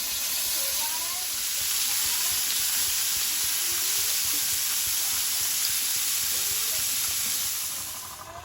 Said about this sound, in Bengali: তেলটা খুবই গরম হয়েছে এবার চুনো মাছগুলো দিয়ে দেবো